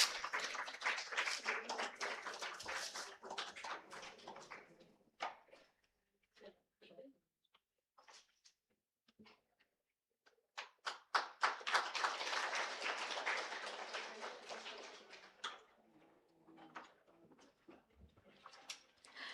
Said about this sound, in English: A big round of applause for the release of the conference abstract book.